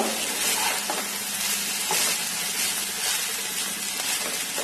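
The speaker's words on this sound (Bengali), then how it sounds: "এখন এখানে আমি গোলমরিচের গুঁড়ো পরিমাণ মতো দিয়ে দেব। দিয়ে এটাকে সামান্য নাড়াচাড়া করব।" Veg fried rice is stirred in a hot pan just after black pepper powder goes in, giving a continuous sizzle and hiss with soft scraping of the spoon throughout, close and steady.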